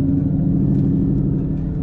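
A supercharged Ford Mustang GT pulls away, its engine giving a steady, loud low rumble with mild revving throughout and no talking.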